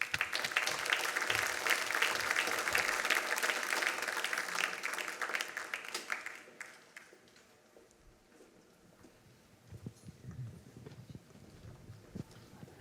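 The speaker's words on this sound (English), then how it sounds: "so please give them a round of applause" A recognition event audience gives a loud, dense round of applause that lasts about six seconds, then thins into scattered claps and faint room murmur.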